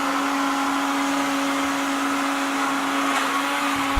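A regular kitchen blender runs steadily, blending a carrot with a constant motor whine and a whirring, grinding churn that holds level for the whole stretch, close and loud, no voices.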